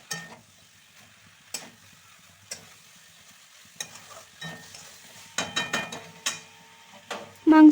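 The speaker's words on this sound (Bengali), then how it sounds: "সমস্ত মশলাগুলি দেওয়া হয়ে গেলে এবার খুব ভালো মতোভাবে আবারও কষতে হবে।" Mutton with meat masala and an onion mixture is stirred in a pan: a soft background sizzle with repeated spoon scrapes and clanks, growing busier and louder toward the end.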